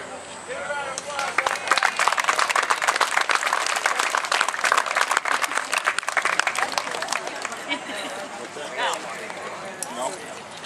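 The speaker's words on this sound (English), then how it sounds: "Give a round of applause." Sustained applause from an audience at a police department open house, loud and steady for most of the stretch before tapering off, with voices mixed in.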